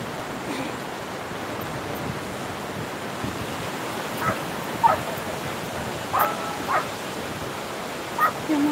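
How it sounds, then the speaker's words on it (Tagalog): Steady seaside surf and wind noise fill a park walk by the sea while several dogs being bathed give scattered short barks and yelps at moderate distance. "Maraming aso, pinaligo nilang aso."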